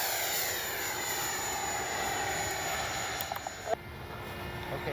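An FMS Futura 80mm electric ducted-fan RC jet flies past with a steady, fairly faint turbine-like whine that holds through the whole stretch, ending in a brief sharper change near the end, no talk over it.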